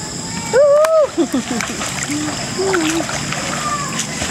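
Water splashing from people swimming in a warm pool, with sloshy splashes under lively voices of children and adults talking and squealing nearby.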